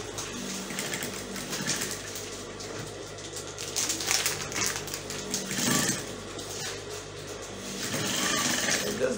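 A sewing machine runs a fast, steady stitch to secure the tips of a braided fabric headband, with a whirring chatter that rises and falls over several seconds and no talk.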